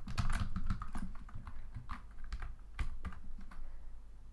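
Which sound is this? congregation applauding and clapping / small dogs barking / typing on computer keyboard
typing on computer keyboard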